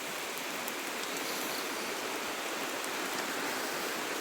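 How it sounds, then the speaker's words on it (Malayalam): Heavy rain falls in a steady, dense hiss that holds even and loud for the whole stretch, with no voices over it. "നല്ല മഴയുണ്ട്"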